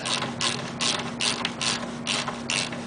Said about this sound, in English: So we're going to just get this started here till it gets snugged up, and then we're going to torque it down.